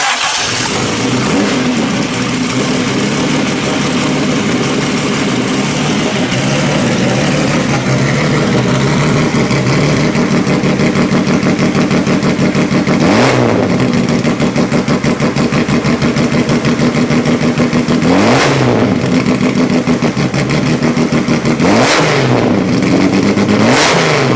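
A 1969 Triumph GT6+ Group 44 SCCA race car engine on open pipes idles with a loud, raspy burble, then rises in several sharp revs, close by and unbroken by speech.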